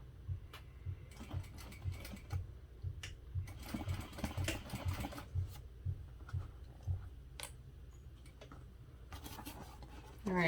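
A sewing machine stitches around the curves of a drop-in bag lining with a quiet, close, rhythmic mechanical whirr in short runs and pauses, with small ticks and handling noises between bursts.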